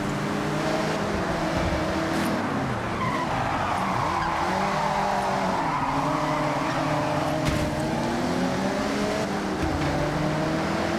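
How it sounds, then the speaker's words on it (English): A car drifts in the Forza Horizon racing game, tyres squealing continuously through long sliding oversteer while the engine revs and wavers underneath, loud and sustained throughout. "Drifters like to induce oversteer and send it all the way around."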